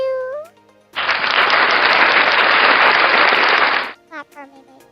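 An audience bursts into clapping for about three seconds, a dense wash of applause framed by short synthetic tonal chirps before and after.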